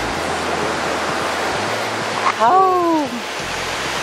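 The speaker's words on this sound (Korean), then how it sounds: "파도 치는 거 봐." Waves crash against a lone sea rock off the Jeju coast in a steady, loud broadband roar, while a voice briefly exclaims over the surf near the end.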